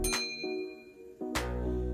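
Two bright bell-like dings play as a subscribe notification sound effect, spaced about a second apart, each with a sharp attack and a ringing decay.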